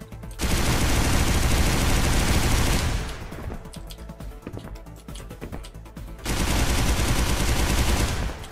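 Rocket launcher firing in the Xonotic video game, heard as two long dense bursts of loud rapid blasts separated by a quieter stretch of scattered game sounds, with no talk.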